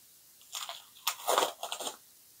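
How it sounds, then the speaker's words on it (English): Someone opens a heavily taped parcel, with close, crinkly tearing and crunching of packaging in three short bursts. "we're finally getting inside this little parcel. Let's open this up."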